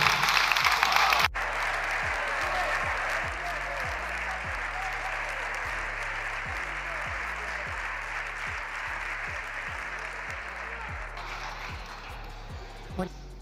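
Sustained applause fills a parliamentary chamber, a dense, steady clatter of many hands after a brief louder burst at the start, continuing for over ten seconds with no voices over it.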